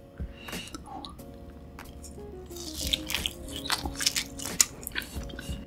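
Pork belly being bitten and chewed up close, soft wet squishes and crisp bites that grow louder and more frequent after a quiet start, alone without talk.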